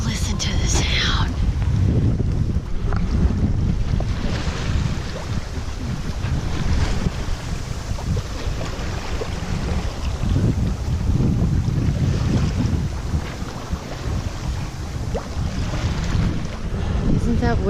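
Sailboat moving under sail alone with its engine shut off, on a voyage toward Cuba: steady broadband rush of water along the hull and wind buffeting the microphone, continuous and fairly loud throughout with no engine drone.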